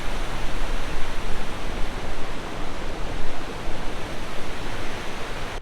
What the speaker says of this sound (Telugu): కనిపిస్తుంది వాటర్ ఫాల్.